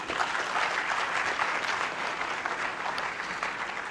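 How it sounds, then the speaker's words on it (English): Students at a university gathering clap for an honored guest, a dense, continuous round of applause holding steady and fairly loud from start to finish. "Please, let's clap for him."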